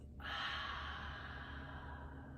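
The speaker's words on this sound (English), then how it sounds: "Exhale through the mouth." A long, steady breath let out through the mouth at the close of a seated yoga session, a soft broad airy rush that starts suddenly and fades slowly over a couple of seconds, close and alone.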